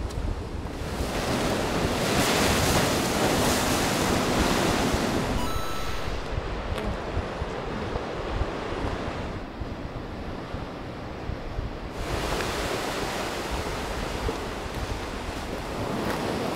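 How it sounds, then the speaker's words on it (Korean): Ocean waves on the shore at Yeongdeok, surf rushing and breaking in loud swells with wind buffeting the microphone, easing to a softer wash midway before another big wave surges in. "파도!"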